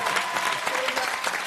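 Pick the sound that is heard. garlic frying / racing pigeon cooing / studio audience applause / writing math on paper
studio audience applause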